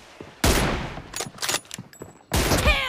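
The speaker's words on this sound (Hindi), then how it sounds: "क्या फायर हो रहा है भाई" Gunfire in PUBG Mobile, with a loud burst of shots opening, then scattered shorter reports, a brief lull, and another heavy burst near the end.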